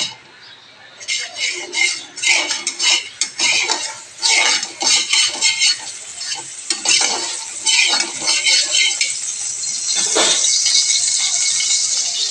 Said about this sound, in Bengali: এবার দিয়ে এটাকে নাড়াচাপা করবো